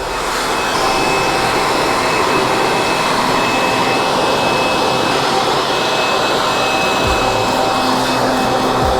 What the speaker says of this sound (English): The leaf blower allows you to dry the quad without rubbing down the plastics